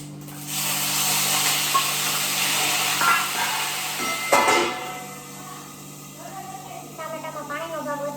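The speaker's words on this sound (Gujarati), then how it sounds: "ટામેટામાં પાણીનો ભાગ વધારે હોય ને એટલે વઘાર વખતે બહુ ઉડે છે" Juicy tomatoes hit hot oil tempered with cumin and mustard seeds, bursting into a loud spattering hiss for about four seconds before settling into a quieter sizzle, with a voice speaking near the end.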